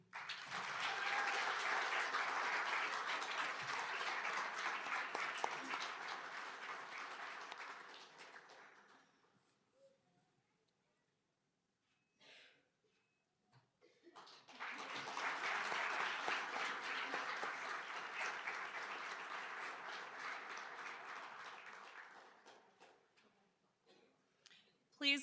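Applause from the audience at a nursing pinning ceremony comes in two long bursts of many hands clapping, separated by a few seconds of near quiet with scattered taps; the level is fairly soft overall.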